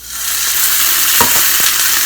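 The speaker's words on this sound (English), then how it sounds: "fry sliced pumpkin" Sliced pumpkin fries in a pan with a steady, loud broadband sizzle for about two seconds, broken by a couple of brief stirring or scraping clicks near the middle.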